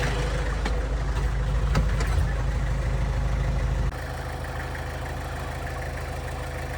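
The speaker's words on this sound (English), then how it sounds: "We'll get back in the tractor and" Tractor engine idling at the edge of a corn planting field, a steady low diesel hum that drops abruptly to a quieter, even drone partway through, with no talking.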